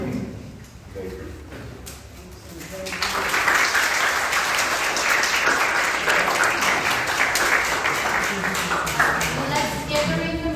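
Applause at a university retirement celebration for a professor, a quiet murmur of voices giving way to sustained, loud clapping from a room full of people that carries on to the end.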